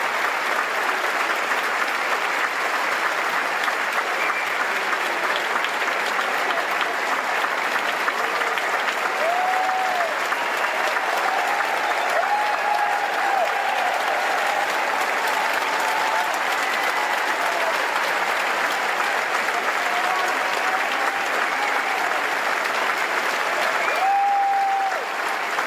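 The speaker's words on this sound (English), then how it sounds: "They arrived after the performance had already begun, with the audience already applauding." An audience applauds at a performance, a dense, continuous wash of clapping that holds steady and loud for the whole stretch with no voices standing out.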